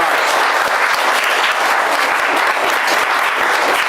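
Audience applause at a winter music recital: dense, steady clapping from a crowd filling the whole stretch at even, loud level, without any speech over it.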